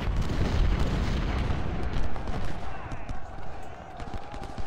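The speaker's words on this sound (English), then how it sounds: "Look at how many cannon shots are over there." Cannon artillery fire from a Civil War battle in the strategy video game Ultimate General: Civil War, a dense, continuous barrage of booms and rumbling blasts layered close together at steady loudness throughout.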